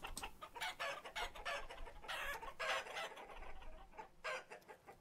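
Chickens in the video game Vintage Story cluck repeatedly in a dense, overlapping series of short calls, fairly close and steady throughout.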